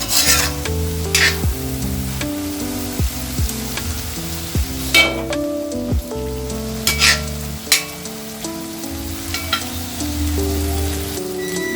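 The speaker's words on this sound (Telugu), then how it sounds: "ఇంకొకసారి కలుపుకొని మనము స్టవ్ ఆపేద్దాం." A spoon stirs Nellore-style mutton fry in a hot pan as it sizzles, giving steady scraping and stirring over continuous frying noise with a few sharper clanks, close and loud, with no talking.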